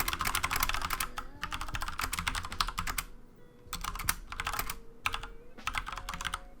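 Rapid typing on a computer keyboard, close and crisp, in bursts of clattering keystrokes broken by short pauses, with no voices.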